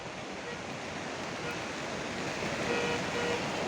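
Dense, steady roar of torrential monsoon rain pouring down in Nepal, a continuous hiss with no pauses, loud and close throughout.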